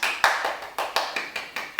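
Eight or nine sharp hand claps in a steady, fairly quick rhythm, close and clear with a short room ring after each, no voices.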